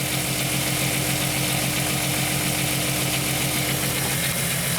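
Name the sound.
1998 VW Eurovan engine idling with a misfire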